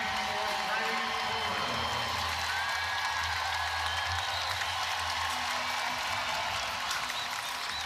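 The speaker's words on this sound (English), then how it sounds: "And a round of applause for a couple of stars tonight for the Sparks" Crowd in a WNBA basketball arena at a Fever vs Sparks game applauds and cheers steadily throughout, a dense wash of clapping with arena noise underneath.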